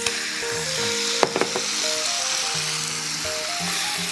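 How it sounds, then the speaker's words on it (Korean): Glass noodles stir-fried in a little cooking oil in a pan for bean sprout japchae give a steady close sizzle, with a brief clatter partway through and faint tonal music in the background. "근데 한번 볶아주게 되면 잘 불지도 않으면서 더 맛도 있게 되니까 네. 이거를 한번 볶아줄게요."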